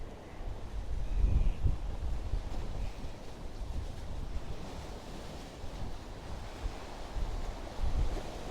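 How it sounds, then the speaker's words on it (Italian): Lake water laps continuously near the shore on a grey morning with gulls about, a soft, steady wash with gentle surges and a faint breezy rumble, no voices present. "sentire proprio il rumore dell'acqua del lago."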